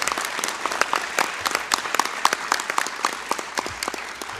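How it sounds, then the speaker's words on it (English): A board meeting audience breaks into steady applause for state champions, a dense wash of clapping at moderate distance with some crisp individual claps standing out. "You can applaud."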